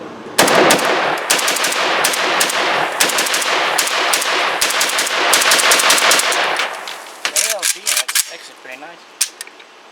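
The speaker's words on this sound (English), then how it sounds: "Let's run a mag through, and then we'll come back to the table." Rapid, loud gunfire from a Chinese milled MAK-90 rifle as a full magazine is fired at a range, a dense burst of shots that thins to scattered single shots near the end, with some talking underneath.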